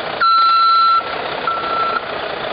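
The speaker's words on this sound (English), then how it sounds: "That just shows my backup alarm work and both of my backup lights work." A loud electronic beeping tone from a motor coach backup alarm, one long beep followed by a fainter second beep, over a steady engine rumble.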